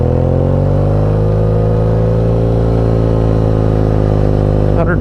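A BMW R nineT motorcycle accelerates up a hill with a loud, close engine roar. The pitch climbs steadily as it pulls, then shifts sharply near the end.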